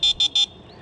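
Three quick electronic beeps from the horn on a Heybike Mars 48V folding fat-tire electric bike, sharp and evenly spaced, close and fairly loud, with no one talking.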